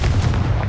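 A Confringo fire spell in Hogwarts Legacy goes off in a loud, close burst of booming blasts, with a few sharp cracks in quick succession over a low rumble.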